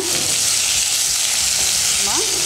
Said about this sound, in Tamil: சேர்த்து நல்லா கலந்து விட்டுருங்க